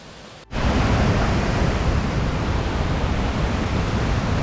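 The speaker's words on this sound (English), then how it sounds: "This is one of the main rapids you'll come across when doing the hike, the Anyumara Falls" Anyumara Falls rapids in Raleigh National Park, Suriname, roar as a loud, steady broadband rush of water that starts abruptly after a brief quieter moment and holds constant throughout, with no voices.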